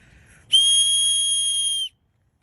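A loud, steady whistle blast held for over a second, blown in a forest to scare off bears, rising abruptly from quiet and cutting off cleanly with nothing after.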